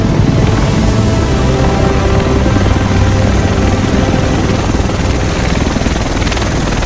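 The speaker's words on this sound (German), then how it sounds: "Der Rest von uns sitzt in diesem Heli." A helicopter arrives in the video game The Division with a loud, close, continuous roar of rotor thumping and wash that stays constant throughout, with no speech.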